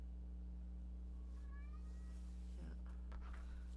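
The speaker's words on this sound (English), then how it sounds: "Cat. You can hear him outside the door." A cat meowing from outside a closed door, a couple of faint, drawn-out meows over a steady electrical hum in the room.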